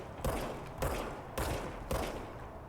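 Service weapon gunfire in the video game Control comes as four loud, evenly spaced booming shots, each with a short decaying tail.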